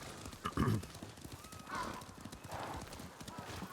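Horse hooves clip-clop along steadily in the Red Dead Redemption 2 video game, with a horse whinnying under ongoing spoken dialogue.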